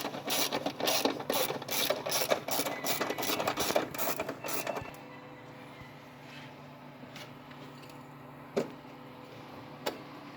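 A ratchet works a bolt loose on the intake manifold of a 1999 Mustang GT, with a rapid run of close clicking that stops halfway through, followed by quieter workshop ambience and a couple of sharp knocks.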